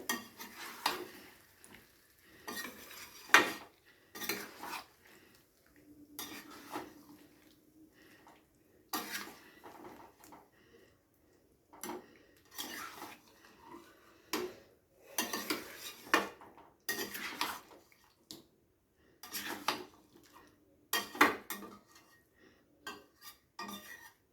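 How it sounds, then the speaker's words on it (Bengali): A spoon scrapes and clanks against a pan while stirring dahi aloo potol curry, coming in irregular bursts of metallic knocks and scrapes separated by quiet pauses, with a faint low sizzle underneath. "এবারে হালকা হাতে খুব ভালো করে নাড়াচাড়া করে সব কিছু একসাথে মিশিয়ে নিতে হবে।"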